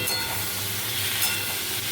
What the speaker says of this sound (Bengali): দেখো কামরাঙাটা সর্ষে ফোড়ন দিয়ে আমি বসিয়ে দিলাম